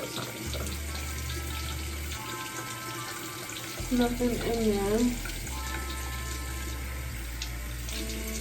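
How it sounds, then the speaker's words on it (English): A tap runs cold water into a sink in a bathroom, a steady hiss of flow, with a short spoken remark and a tonal squeak partway through. "I'm gonna re-wet my face with some really cold water"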